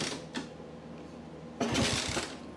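A vintage 1964 Honda C200 motorcycle being kick-started, a quiet mechanical whirring and clicking of the kick lever turning the engine over, with a louder, rougher burst of cranking near the end; no talking.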